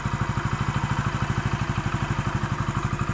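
A motorcycle engine fitted with a Hero Honda CD 100 piston in a Passion Pro idles close by with a fast, even, thumping pulse, steady and unchanging, no voices over it.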